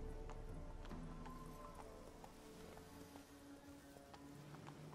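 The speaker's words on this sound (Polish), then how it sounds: "Można koniem do tyłu w ogóle iść, zobaczcie." Horse hooves clip-clopping steadily in The Witcher 3 as the mount walks backwards, a soft, even rhythm of hoof falls over a constant game ambience, with no talk.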